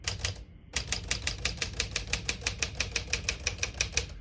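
Crisp, evenly spaced keystrokes on a 1956 Smith-Corona Super portable typewriter, close up, a steady clacking run with a brief pause near the start and no talk.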